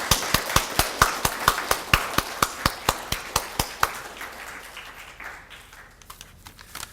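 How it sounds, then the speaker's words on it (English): Steady rhythmic clapping from an audience at a university opening ceremony, a dozen or more sharp even claps that give way to looser, fading scattered applause. "Let's give them a huge applause as they are leaving us for the endeavors."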